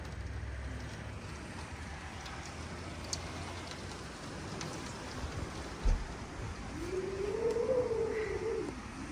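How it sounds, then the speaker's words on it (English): Rain falls during a thunderstorm as a soft, continuous hiss, fairly quiet and distant, with a brief thump midway and a faint tonal rise near the end. "Raining now. All my plants are getting watered."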